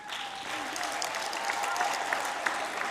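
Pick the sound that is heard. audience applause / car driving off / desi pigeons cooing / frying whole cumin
audience applause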